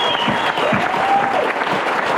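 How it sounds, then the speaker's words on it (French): Steady, full audience applause at a French variety show, a dense wash of many clapping hands continuing without a break, with a faint tonal sound drifting through. "Vous pouvez nous applaudir, bravo!"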